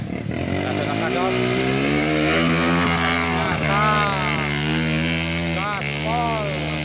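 A trail dirt bike revs hard on a muddy rainy-season climb, its engine note rising and falling in repeated loud sweeps, with voices calling out nearby.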